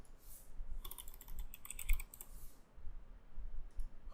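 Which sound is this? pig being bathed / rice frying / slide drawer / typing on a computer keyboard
typing on a computer keyboard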